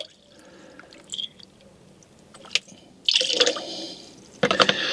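Capfuls of sterilising fluid pour into a container of water, used to sterilise seed-sowing pots and trays; a quiet start gives way to two louder bursts of splashing liquid, close by and with no voices.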